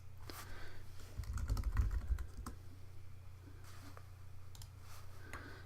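Computer keyboard being typed on for an email reply, a quick run of soft close key clicks, busiest early on, then sparser taps over a low background hum.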